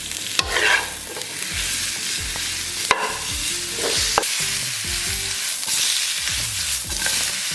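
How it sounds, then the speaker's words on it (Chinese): Pork belly rendering fat over low heat in a wok, a steady close sizzle with frequent scraping stirs and occasional sharp clinks of the spatula, no voices. "小火给它煸出油脂。"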